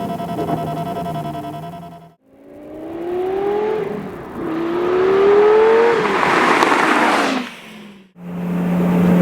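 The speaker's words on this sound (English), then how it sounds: "Cruising along in 6th gear is, you can still hear the exhaust, because you want to hear that in this car." Lamborghini Gallardo e-Gear exhaust while cruising in sixth gear, a loud, steady engine drone that swells and falls with throttle, with rising whines and two brief dips where the sound nearly cuts out.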